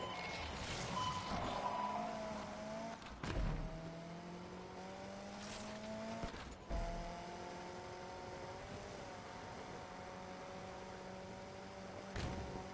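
A car drives in Need for Speed Unbound during a police chase, its engine droning and shifting pitch through gear changes, with a few sharp impacts along the way and no one talking.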